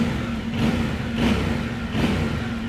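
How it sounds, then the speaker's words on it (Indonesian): A Yamaha Tenere 700 World Raid with a 270-degree twin engine revs in repeated bursts, rising about every 0.7 seconds over a steady idle rumble, loud and close with no voices. "Tuh, suaranya emang khas mesin 270 derajat teman-teman."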